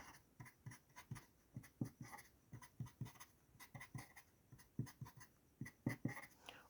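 Marker strokes squeak and scratch across a whiteboard as a butane structure is drawn, a steady run of short, quick taps and lines close by with no talking.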